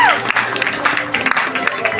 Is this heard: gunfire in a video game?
no